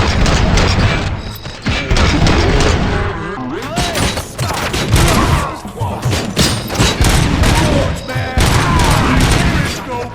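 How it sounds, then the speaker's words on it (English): Rapid bursts of gunfire and booms in the video game RoboCop: Rogue City crackle over dramatic music and shouting voices, dense and loud throughout. "Am I hearing gunshots?"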